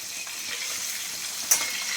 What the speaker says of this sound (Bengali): আর এদিকে এদিকে শোল মাছগুলো ভাজছি